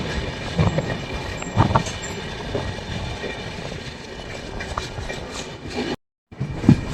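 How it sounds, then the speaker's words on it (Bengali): A train departs from a station on the Kolkata to Parasnath route, giving a steady loud rumble of wheels and carriages with occasional clanks and squeals that briefly cut out near the end. "আর আমাদের ট্রেনটা দেখুন স্টেশন থেকে ছেড়ে দিল।"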